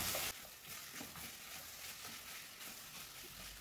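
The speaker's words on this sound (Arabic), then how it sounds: "هنديها تقليبه كده مع الصلصه مع كل المكونات" A spoon scrapes and stirs through thick sauce with lamb tripe in a pot over a steady sizzle, with no talking.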